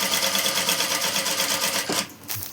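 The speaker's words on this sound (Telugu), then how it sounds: "చూడండి, నేను పై వైపున కుట్టు వేస్తున్నాను." An electric sewing machine runs steadily, stitching along the top edge of an umbrella frock's lining, a fast even whir that stops briefly near the end before restarting.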